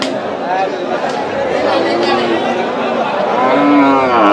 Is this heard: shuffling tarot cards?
no